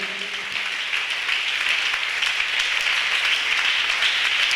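A church congregation claps in acclamation during a worship service, a loud, continuous roar of many hands close by, holding steady without pause.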